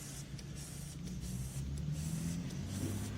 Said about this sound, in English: Let's spray a little more on here